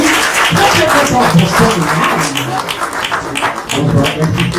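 Audience clapping for a company director invited on stage at a magazine launch event, dense and loud, with voices and crowd noise mixed in throughout.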